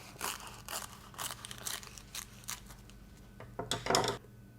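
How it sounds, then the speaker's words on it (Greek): A sheet of nori being cut in half for sushi, a series of short crisp snips and crackles in irregular bursts, close and fairly quiet, with a louder crinkling rustle near the end. "Παίρνουμε ένα φύλλο νόρι και το κόβουμε στα δύο."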